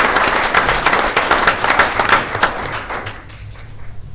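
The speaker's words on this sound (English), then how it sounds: "Let's give our cheerleaders a round of applause." Audience applause at a school district event for the state champion cheerleaders, a fairly loud burst of many clapping hands that thins out and fades over a few seconds.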